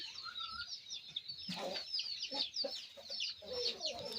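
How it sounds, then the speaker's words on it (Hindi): An Aseel hen, Amroha breed, clucks repeatedly in short, throaty bursts over steady outdoor bird chatter, with other fowl calling faintly in the background. "इस मुर्गी तो चल के उठ गई है।"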